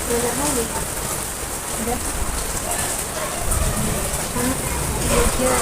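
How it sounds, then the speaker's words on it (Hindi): Steady rain hisses and patters on a surface throughout, a constant wash of drops with faint voices now and then underneath. "फिर भी बारिश हो रहा है। ये देखिए बारिश,"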